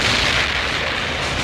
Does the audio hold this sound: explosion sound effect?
yes